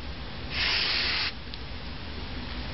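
A short burst of drug-test aerosol spray hisses for under a second onto test paper, close and bright, over a faint steady background hum.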